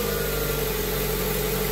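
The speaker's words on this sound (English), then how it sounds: "We'll start the car and check for leaks." A 2021 Toyota Corolla Hatchback engine idling after an oil change, a steady, even hum with a constant low vibration, close and unbroken, with no talking.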